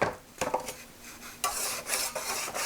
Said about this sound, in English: We are going to loosen it from the pan.